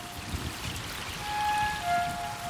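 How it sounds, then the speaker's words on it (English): Steady rain falling during the rainy season at Copan, a continuous broadband patter of drops on surfaces with no voices, moderately loud and even throughout with slight swells. "the rainy season descends on Copan."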